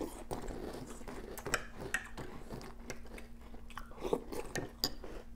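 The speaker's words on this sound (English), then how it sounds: "there's a really nice crunch. It's a delicious crunch." Eggo waffle cereal being chewed, a series of close, crisp crunches and bites at an uneven rhythm with faint clinks of cutlery, no talking.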